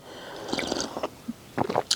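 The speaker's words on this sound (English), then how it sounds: "Them people hate me slurping this coffee," Close, wet slurping sips of coffee come in short bursts, with a few squishy liquid noises between them.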